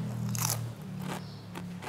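Crisp bites into a crunchy fried shrimp snack from the Uttaradit local food, up close: a couple of brittle crackling crunches followed by softer chewing, with no talk.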